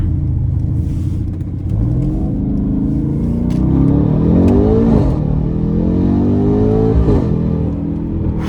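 A 2019 Mercedes-AMG C63 S Brabus 900 engine accelerates hard, its deep growl climbing in pitch through several gear shifts, loud and up close with no speech.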